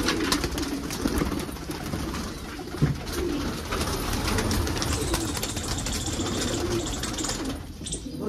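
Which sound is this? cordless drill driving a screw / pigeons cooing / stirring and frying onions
pigeons cooing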